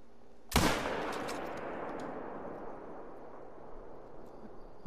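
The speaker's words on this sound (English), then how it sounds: "I just made another bad shot." A single loud rifle shot fired on an Emerald Coast kangaroo hunt cracks sharply, then rolls away in a long fading echo across open country.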